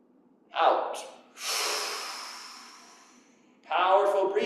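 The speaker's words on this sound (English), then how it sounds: "Powerful breathing, which isn't too powerful for this." Forceful breaths of a person doing Yi Jin Jing qigong, a sharp inhale followed by a long, steady, airy exhale and then another strong breath, close and fairly loud.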